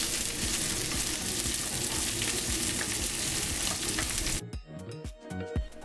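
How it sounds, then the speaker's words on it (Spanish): Chopped onion fries in a pan with a loud, dense, continuous sizzle that drops off sharply near the end, followed by a few stirring scrapes. "Añadimos la cebolla y freímos"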